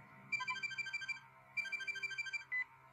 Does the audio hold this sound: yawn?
no